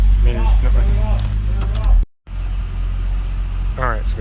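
Drift ute engine idling rough after a fuel regulator install, a low uneven rumble running under nearby talk, with a brief cutout midway before the idle resumes.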